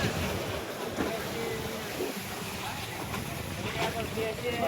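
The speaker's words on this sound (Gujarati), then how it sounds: "આવી રીતના છે ને મિત્રો મોજા આવે છે." Sea waves at Diu beach make a steady, broadband wash with wind buffeting the microphone, continuous and fairly loud throughout with no distinct breaks.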